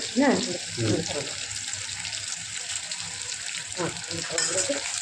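Mustard seeds, onion and curry leaves frying in groundnut oil in a kadai for a Tamil bitter gourd kuzhambu, a steady crackling sizzle with a few stirring scrapes and brief speech-like bursts over it.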